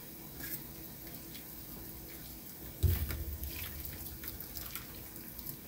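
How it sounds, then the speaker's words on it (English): Boiling water pours from a pot onto oxtail meat to scald it, a quiet running splash that swells suddenly partway through and continues steadily as a watery, sink-like gush. "The water has come to a boil, guys, so I'm going to pour it onto the meat."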